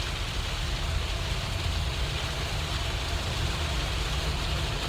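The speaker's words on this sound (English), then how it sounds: "this rain is really coming down" Heavy rain falls steadily as a dense, even hiss with a low rumble beneath, constant and unbroken throughout, with no voices.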